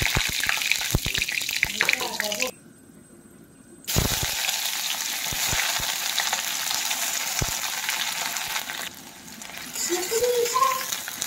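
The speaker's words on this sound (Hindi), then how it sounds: "ये हो गया तेल गरम, पहले जाएगा करी पत्ता." Curry leaves dropped into hot oil for a silkworm and big fish curry, a loud crackling sizzle with a brief gap before the frying resumes, steady and close, with a little talk over it.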